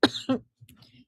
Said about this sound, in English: The words were followed by several coughs.